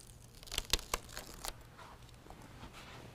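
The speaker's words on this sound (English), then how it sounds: "Peel away the adhesive protector." An adhesive protector backing is peeled off a BedRug full bed liner in a 2019 Ram 1500 bed, a burst of quick close tearing and crinkling snaps that trails into softer rustling.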